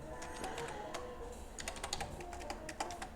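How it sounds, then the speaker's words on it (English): Quick bursts of keystrokes on a computer keyboard, irregular clicky taps clustering in short runs, close and fairly quiet, with no voices. "let me type it"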